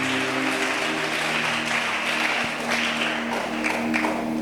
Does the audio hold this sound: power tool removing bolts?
no